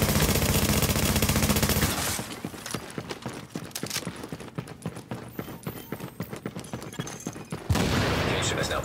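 Gunfire from an attack on a fortification in Tom Clancy's The Division, with rapid rattling bursts and clustered shots in the middle of the clip, set between denser stretches of game noise and radio-style announcements.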